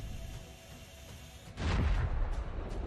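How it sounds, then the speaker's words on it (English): An armored personnel carrier hit by a drone strike explodes as its ammunition ignites, a sudden loud, rumbling burst of blast noise that breaks in halfway through and stays heavy and sustained to the end. "The temperature quickly ignites the ammunition, and there is an incredibly violent explosion."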